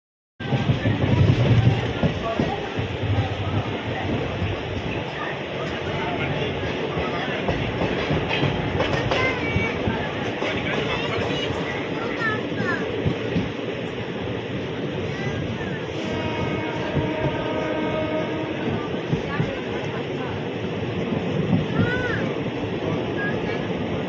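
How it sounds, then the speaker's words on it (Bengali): The Howrah Sahebganj Express runs on after leaving Bandel with a continuous rumbling roar and rhythmic wheel clatter. Murmuring voices sit inside the moving carriage. "আমাদের ট্রেন কিন্তু এখন ব্যান্ডেল থেকে ছেড়ে দিয়েছে"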